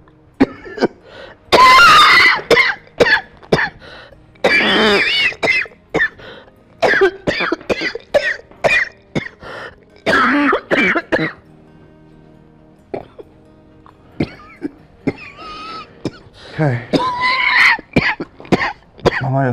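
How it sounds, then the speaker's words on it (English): A feverish, ill person coughs and clears their throat in repeated close, loud bursts, with short quiet gaps between fits. "You're still coughing."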